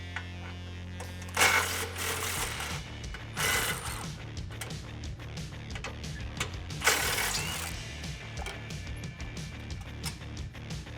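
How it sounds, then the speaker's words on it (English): A hand ratchet clicks in quick, steady bursts while loosening the 13 mm exhaust hanger bolts behind the rear differential of a 2018-2019 Mustang GT, close and fairly loud, with a few louder metallic clanks between runs. "you're gonna have 2 hangers with 13 millimeter bolts"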